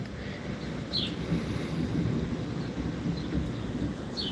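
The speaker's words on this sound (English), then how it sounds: "there is still a little bit of thunder rolling through" Low thunder rolls continuously through a rainstorm around an apartment complex, a soft distant rumble blended with steady rain and some wind, with no one speaking.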